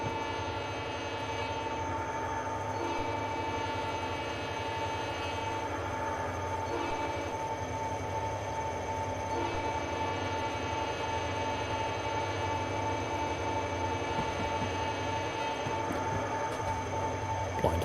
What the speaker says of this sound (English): There's the SD40-2, which is the one we're driving at the moment.